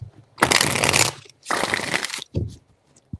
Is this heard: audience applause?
no